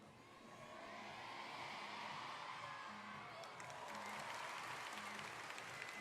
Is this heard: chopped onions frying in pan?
no